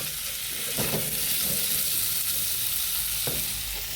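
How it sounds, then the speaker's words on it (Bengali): Potatoes fry in hot oil in a pan for a vegetarian soybean curry, a steady close sizzle with a few louder stirring scrapes, and no talking. "তো হতে থাক ভাজা। আলুটা ভাজা ভাজা হয়ে গেল"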